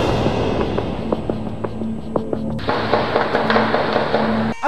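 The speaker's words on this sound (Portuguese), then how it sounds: "Durante o socorro da vítima, novos disparos foram registrados em um vídeo feito pelos próprios moradores." Gunshots from a shootout between gangsters and police in the Complexo da Penha, a series of sharp cracks at irregular intervals, some close together, echoing over a steady background hum.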